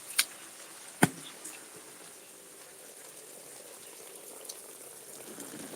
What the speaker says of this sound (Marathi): पाऊस चालू आहे